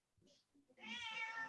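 A pet cat gives a short, soft chirp, then a longer, louder, clear meow, close by in a quiet room.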